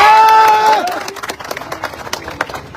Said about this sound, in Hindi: इनका भी जोरदार ताली बजाएंगे।